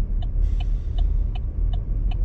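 A car drives through traffic, heard from inside on a GoPro Hero 9, with a loud steady low road rumble and a faint regular ticking, like an indicator, repeating about every third of a second, with no talking.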